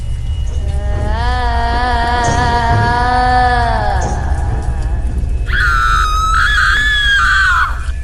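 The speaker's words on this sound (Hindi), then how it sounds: "ये तो किसी के चीखने की आवाज है" Loud, drawn-out screams ring out near an old graveyard at night, one long wavering cry followed after a pause by a higher, shriller scream over a low background rumble.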